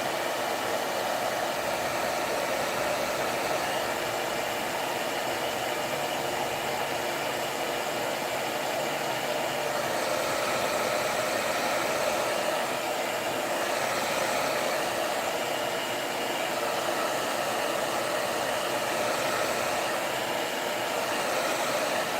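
A hair dryer blows steadily and loudly on water-based varnish coating a rustic wooden bread and cake stand, giving a continuous even whoosh with no pauses for the whole stretch.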